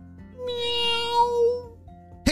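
A cat meows once, a clear drawn-out tonal cry in the middle of a children's bedtime story, followed by a brief sharp noise at the end; it may be a voice imitating the meow.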